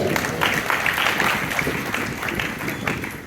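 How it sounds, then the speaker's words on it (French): A church congregation claps together during a worship service, a broad, even wash of applause that holds steady and fades slightly toward the end, with no voices standing out. "On applaudit le Seigneur pour sa frère et sœur."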